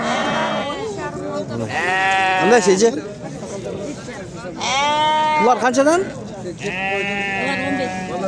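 At the Sokuluk livestock market, sheep and goats bleat loudly and close by in long, wavering cries, while people talk over and between the calls.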